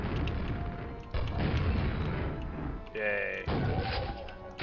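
Grenades bouncing and going off in Quake, with broad booming blasts and crashes around 1.2 and 3.5 seconds, a loud dense game soundscape throughout, a short tonal chime near 3 seconds, and a brief exclaimed word.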